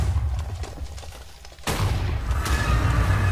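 A Minecraft shooting minigame fires off a rapid burst of game gunfire, a sudden loud, dense volley that follows quieter background game noise.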